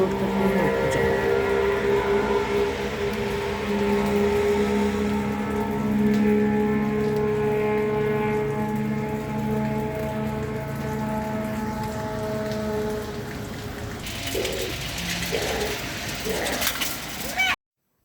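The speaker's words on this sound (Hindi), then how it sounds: "बारिश बहुत ज़्यादा तेज़ हो रही थी" Heavy rain pours steadily onto surfaces throughout, a dense, loud hiss of drops, with a voice talking over it for much of the time and some handling clatter near the end.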